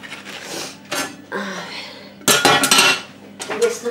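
Dishes and cutlery being washed at a home sink, with repeated clinks and clatters of utensils and crockery in bursts, loudest toward the middle, with no talk.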